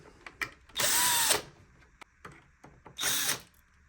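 Power screwdriver unscrewing a ring inside a Dreame robot vacuum under repair, two loud whirring bursts of about half a second each amid small clicks and taps of handling, close up with no talk.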